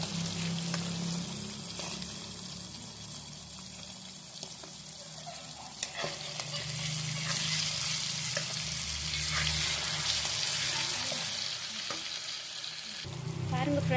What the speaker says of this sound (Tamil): வாங்க ஃப்ரெண்ட்ஸ், இப்போ நம்ம திருப்பி போட்டுக்கலாம்.